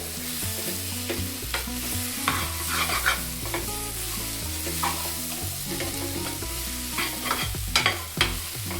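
Sprouts, potato and brinjal frying in a pan for a sprouts sambar, stirred with repeated scraping strokes over a steady sizzle, close and loud. Music with strong tonal lines plays underneath.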